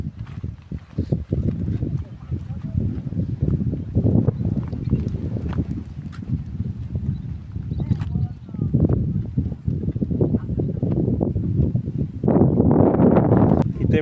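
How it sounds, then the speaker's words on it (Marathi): Strong wind buffets the microphone outdoors in the Konkan countryside, a steady low rumble with gusts that swell near the end, while people talk over it. "वारा एवढा आहे ना"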